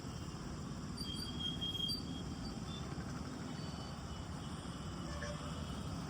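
A metro train at Chaitanyapuri metro station gives a continuous rumble of rolling wheels and a faint high squeal, steady and moderately loud throughout with no talk.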